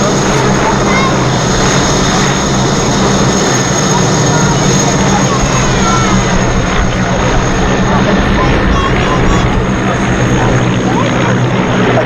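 Propeller aircraft of an aerobatic display team fly in formation through gusty wind at the Duxford Air Festival, a loud, steady engine drone filling the whole stretch over broad outdoor noise.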